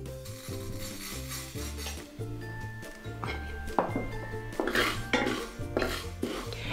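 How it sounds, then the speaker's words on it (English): Unwashed plain jasmine rice is dry pan-fried over low to medium heat, heard as clinking and scraping of a utensil against the pan, with irregular metallic knocks growing busier toward the end; no talking. "all I'm going to do is just to pan fry it dry"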